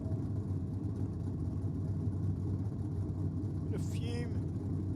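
Holden Gemini drag car with a 6-litre LS V8 running at a steady low rumble, a deep continuous engine drone held throughout while a commentator talks over it, with a brief higher whine near the end.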